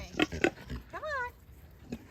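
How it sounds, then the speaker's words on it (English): A pig, apparently a sow in heat, gives two short close grunts, then a longer rising squealy oink, then a final soft grunt. "Crazy pig."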